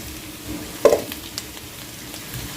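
Chopped carrots drop into a pan of sizzling beef with a sharp clatter, followed by a soft steady frying hiss and a little stirring.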